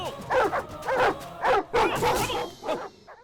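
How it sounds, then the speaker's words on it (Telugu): A dog barks and yips repeatedly in a Telugu comedy film scene, several loud, close barks in an uneven rhythm, with a brief whimpering tail at the end. "ఎందుకురా అరుస్తున్నావు? కరవు. ఎందుకంటే కుక్కలకి మంచోళ్ళు ఎవరో తెలుసు."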